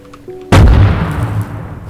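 A sharp explosive blast of explosive ammo in the game Rust bursts in after a brief tonal sound, followed by a rumbling, crackling decay that fades over a second or so.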